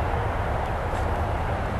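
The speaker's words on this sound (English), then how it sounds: "Airplane!" A small airplane passes overhead as a steady, loud broadband engine roar and rushing drone that holds evenly throughout, with no talk.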